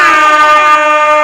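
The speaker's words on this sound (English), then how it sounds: "the air horn" A single loud, brassy air horn blast sounds close up, holding steady for about a second before cutting off.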